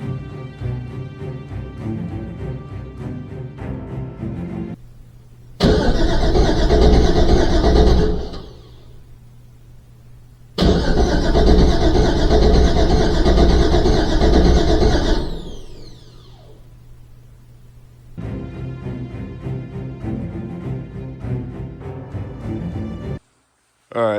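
A Pontiac Trans Am engine cranks repeatedly without starting despite a charged battery and decent cranking speed, no fuel or spark. Loud starter bursts come in several long attempts separated by quieter pauses, heard close up.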